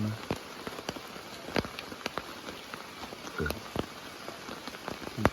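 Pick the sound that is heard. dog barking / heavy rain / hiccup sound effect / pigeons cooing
heavy rain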